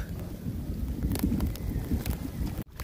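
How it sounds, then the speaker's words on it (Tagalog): Strong typhoon wind roars continuously with a dense low rumble and rain noise during Typhoon Aghon, steady and loud with brief gusts, then a short dropout near the end. "Yan Marta, lumalakas na naman yung ulan, lumalakas lalo rin yung hangin."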